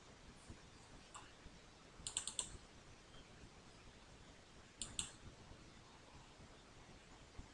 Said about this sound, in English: Then we click on save.